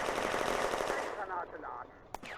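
Loud, sustained machine gun bursts in the WWII video game Firefight, set on the Eastern Front in June 1941, fade slightly and end in one sharp final report.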